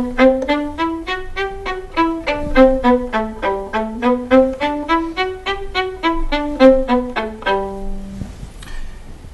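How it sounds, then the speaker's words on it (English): Violin played with a spiccato off-the-string bouncing bow stroke, a steady run of short, crisp detached notes moving up and down in pitch, ending on one held note, played alone and close. "Spiccato is an off-the-string bouncing stroke, which sounds like this."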